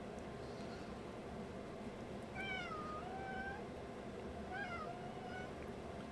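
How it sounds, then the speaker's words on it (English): A cat meows twice, a few seconds apart, fairly faint and distant against a quiet background hiss. "you can hear the kitty in the background"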